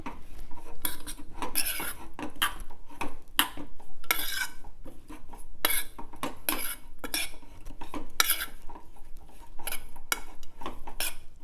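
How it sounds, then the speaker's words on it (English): A spoon stirring koshimbir salad in a bowl makes repeated bursts of scraping and clinking against the bowl, close and fairly loud, with short pauses between strokes. "I just put it here just to be able to stir it."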